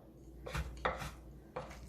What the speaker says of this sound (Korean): 단칼에 힘을 주시고 바짝바짝 힘을 주시고 썰어 주셔야 되겠어요